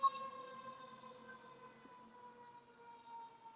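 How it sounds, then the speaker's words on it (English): A wailing siren from a passing ambulance holds steady sustained tones that slowly drift down in pitch, fairly faint and distant, with no voices over it. "like the ambulance going by"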